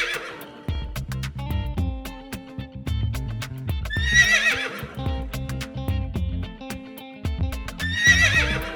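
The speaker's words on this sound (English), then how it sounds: "You got it right, it's a little horse." Two bright, shrill horse neighs break out several seconds apart over a lively, rhythmic music track with clip-clop-style hits, and the whinnies stand out clearly above the backing.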